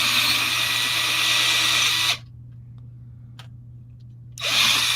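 A power drill bores into a part in a loud, steady whine that cuts out for a couple of seconds, then starts again.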